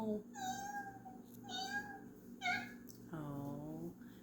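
A person imitates a cat with a voice, giving four drawn-out meows in a row, the last one longer and lower, in a playful setting.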